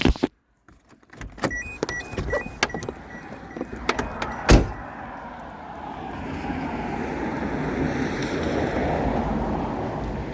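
An incoming tide washes over a beach. After a few sharp clicks and knocks, the rushing surf swells into a steady, broad hiss that builds and holds, with no talk.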